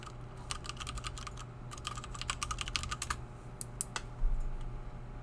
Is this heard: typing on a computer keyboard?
yes